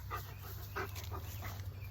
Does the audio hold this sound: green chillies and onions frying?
no